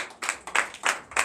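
Clapping from a congregation during a Sunday church service in Comè, Benin, in four loud, evenly spaced bursts of hand claps, close and rhythmic rather than a continuous ovation.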